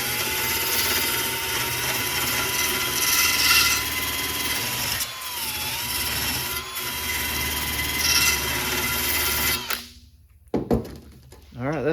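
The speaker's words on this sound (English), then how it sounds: "see if I can get these ground off to get this piece separated from the subrail" Power tool grinding at rivets on a rusty 1928 Model A rear body crossmember, a loud continuous abrasive whine with brief dips, stopping near the end as a voice speaks.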